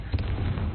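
A Confringo blasting spell goes off in the Hogwarts Legacy video game, a short, muffled pop-like burst rising out of a low, steady background rumble.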